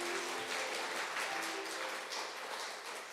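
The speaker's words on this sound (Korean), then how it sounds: "인사하실 때 크게 박수로 환영하도록 하겠습니다" A church congregation applauding to welcome a visiting guest, steady sustained clapping from many hands throughout, moderately loud with a voice faintly underneath.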